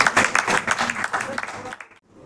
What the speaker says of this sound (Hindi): एक बार जोरदार तालियां बजा दीजिए इस स्पेशल फेलिसिटेशन मोमेंट के लिए